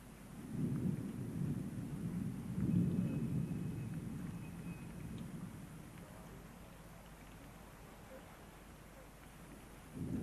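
Violent thunderstorm with rain over a Bangladesh archaeological site before the monsoon: deep rolling thunder swells twice in the first half and fades under steady rainfall.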